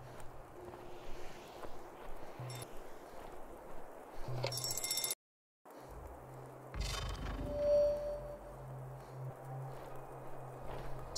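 A phone rings in the horror driving video game Decimate Drive, with bursts of ringing in short intervals over a low, murky game ambience and a brief cut to silence midway.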